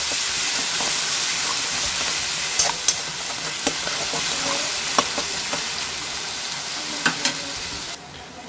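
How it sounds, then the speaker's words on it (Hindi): Chopped onion, garlic and curry leaves fry in hot oil for a Kerala-style fish curry, with a loud, continuous sizzle and hiss and a few sharp clinks as they are stirred. "थोड़ा सा करी पत्ता ऐड कर रही हूँ, तो प्याज और लहसुन को अच्छे से भून लेंगे थोड़ा सा।"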